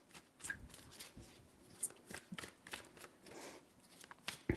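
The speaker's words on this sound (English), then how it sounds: "Three shuffles." A deck of tarot cards is shuffled by hand, giving a soft, close, papery riffling and rustling that runs in short uneven bursts, faint and without any voice.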